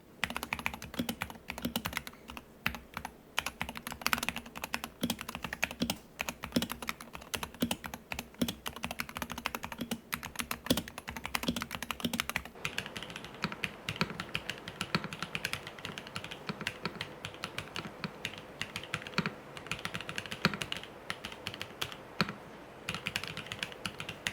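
Steady, rapid typing on a Wooting 60HE mechanical keyboard, close and fairly loud, with clacky keystrokes running continuously and no voices.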